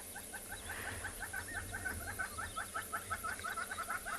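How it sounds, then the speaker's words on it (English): Hornbills call at sunrise on a safari in the Tswalu reserve, giving a fairly faint, rapid series of repeated clucking notes in a steady rhythm over a background hum. "You can hear the hornbills in the background saying"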